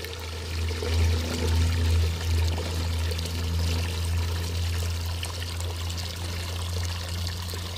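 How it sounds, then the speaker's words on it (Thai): Plain water, roughly 5 to 10 litres, pours steadily and loudly into a container, a continuous close splashing stream with no talk. "เพียงเราเพิ่มส่วนผสมเป็นน้ำเปล่าประมาณ 5-10 ลิตรนะครับ ใส่ภาชนะแบบนี้เลยครับ"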